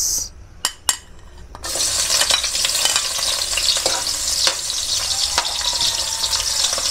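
Onions sauté for shrimp chop suey, giving a loud, continuous sizzle and crackle after a few sharp clinks of utensils against the pan, with steady stirring scrapes through the frying.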